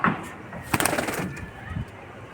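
Racing pigeons at a loft give brief cooing calls alongside scuffling and flapping, up close, with faint voices in the background.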